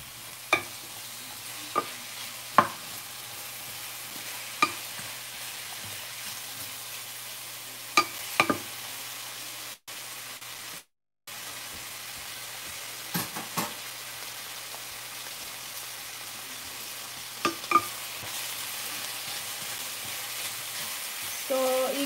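Onions sauté in a frying pan with a soft steady sizzle, broken by occasional clinks and scrapes of stirring and a brief dropout midway, with no talk.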